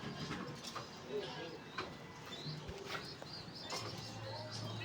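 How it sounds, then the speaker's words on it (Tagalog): Soft pigeon cooing among other bird calls, fairly faint against steady outdoor background noise. "Ito nga pala ating mga kalapati"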